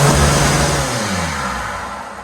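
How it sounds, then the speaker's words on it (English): A car engine revs high and then winds down, a loud, close mid-pitched drone that falls steadily in pitch over a couple of seconds, heard alone without speech. "I wasn't gonna rev it, but I let it get up to 10."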